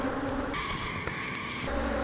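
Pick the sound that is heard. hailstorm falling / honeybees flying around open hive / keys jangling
honeybees flying around open hive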